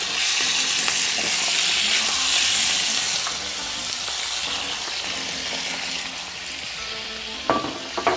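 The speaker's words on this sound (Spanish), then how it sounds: "El sonido del fondo de la olla, lo que más nos gusta en este programa" Beef cheeks sizzle and fry on the bottom of a hot pot, a dense continuous hiss with soft crackles and a few stirring clatters near the end, close and clear without talk.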